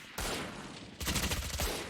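Dense bursts of rapid gunfire in the video game Valorant crackle loudly during a tournament match, a sustained volley that briefly eases before a second, more jagged burst of shots.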